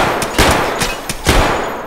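Loud, close bursts of video game gunfire ring out in a rapid series of about six blasts within two seconds, each shot sharp and booming with brief decay, and no talking.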